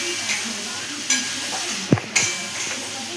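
Tomatoes fry in hot oil in a pan while boal fish jhal is cooking, giving a steady close sizzle with a few scraping stirs and light knocks against the pan.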